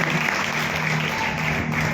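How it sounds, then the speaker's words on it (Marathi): A church congregation applauds warmly, a dense, steady wash of many hands clapping together, filling the room for the whole stretch. "आपण देवाला धन्यवाद देऊया आणि जोरदार टाळ्या वाजवूया"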